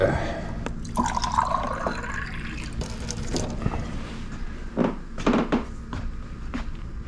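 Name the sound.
filtered tap water being poured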